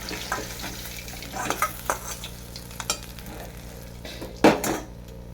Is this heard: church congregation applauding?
no